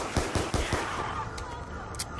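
Rapid weapon fire rattles in Black Ops 2 Zombies: a quick burst of about four sharp shots at moderate volume, then a few fainter scattered pops over continuous game ambience.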